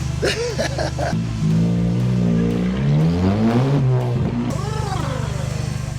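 A turbocharged 350bhp VW Scirocco TSI GT engine pulls hard under boost, its rising and falling tone sweeping up through the gears, loud and close, with a brief spool-down and a voice speaking near the end.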